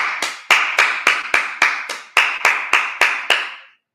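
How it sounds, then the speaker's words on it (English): Rhythmic group clapping at a church Sabbath service, about a dozen sharp, evenly spaced claps in unison at a steady beat, loud and close, ending abruptly with no talk over it. "clap it up"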